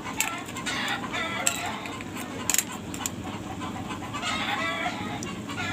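Chickens cluck and squawk continuously, many birds together at moderate distance, with occasional sharper calls and a crowing rooster among them.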